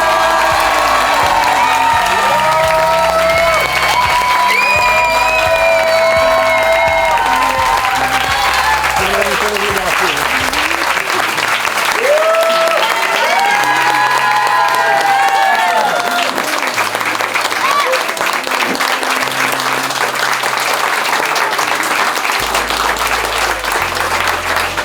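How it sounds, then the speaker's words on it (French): Wedding guests break into loud, sustained applause with cheering and whoops in a hall, the clapping staying dense and continuous over music, with a few voices calling out over it. "Et là, vous pouvez applaudir, mais encore plus fort que ça."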